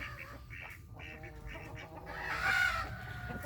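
Two domestic hen ducks squabble nearby, trading sharp, harsh quacks and squawks in quick bursts that swell to a louder peak before settling, with no one talking over them.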